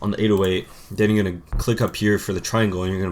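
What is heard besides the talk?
No everyday noises stand out.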